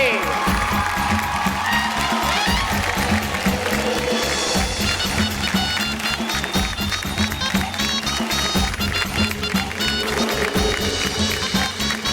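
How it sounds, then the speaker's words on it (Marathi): Loud applause and cheering from a studio audience on a Marathi women's TV game show, rising for the episode's winner and blending with upbeat music throughout. "एकदा जोरदार टाळ्या होऊन जाऊ दे"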